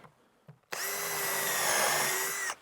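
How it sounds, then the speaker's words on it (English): Cordless power drill driving a screw into wood during off-grid building work, one sustained loud whine of about two seconds after a couple of brief knocks, ending abruptly. "I'm going to try and get a screw through from the other side here."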